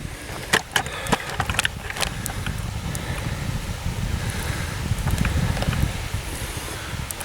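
Wind gusts across an outdoor campfire on a wet day, a steady rough rumble with a few sharp crackles or pops early on, no talking.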